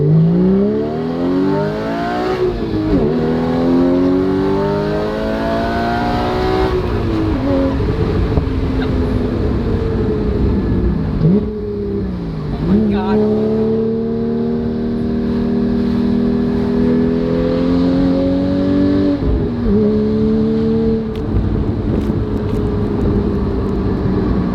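Porsche GT4 (981) fitted with a Valvetronic Designs exhaust accelerating through repeated gear pulls, the loud engine note rising in pitch, dropping at each shift and climbing again, close and steady throughout with no talking.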